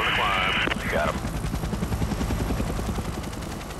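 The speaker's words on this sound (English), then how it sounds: "The HC-130 has to slow to allow the choppers to fly in formation" Pave Hawk rescue helicopters flying in formation over Alaska, a steady close rotor throb with rapid blade chop running throughout, briefly overlaid at the start by a radio-style voice transmission.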